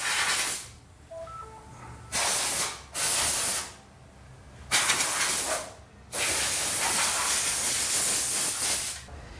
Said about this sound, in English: Joey's now going to blow off any loose debris, dirt, dust.